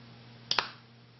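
Two quick sharp clicks close together as a plastic exfoliator bottle cap snaps shut, with a faint gritty crunch from particles stuck in it, alone in a quiet room.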